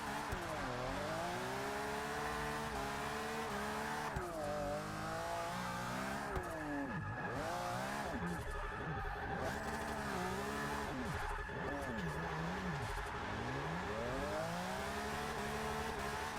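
BMW 850CSI with a rear-wheel-drive drift build in Forza Motorsport 6, its engine revving hard and swooping up and down continuously as it slides, with tire squeal mixed in, loud and steady throughout.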